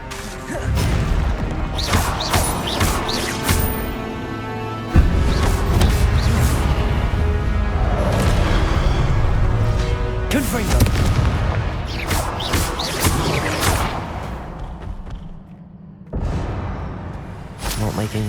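Confringo explosive spell blasts in Hogwarts Legacy, a run of loud booming impacts and crashes with a heavy burst near the middle, dense game sound throughout, fading near the end before another hit.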